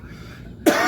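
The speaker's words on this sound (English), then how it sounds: "There's a reason why I'm coughing." A single sharp, loud cough bursts out near the end, close to the microphone, after a near-silent stretch.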